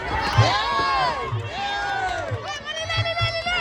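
A large crowd of fans cheers and shouts continuously at a Muay Thai fight, with rising and falling whoops and calls filling the space.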